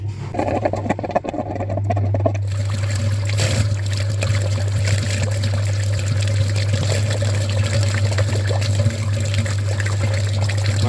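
Water runs steadily through the front radiator of a Skoda Fabia or VW Golf V Plus cooling system during a flush with a clean filter, a continuous close rushing with a low pump hum underneath.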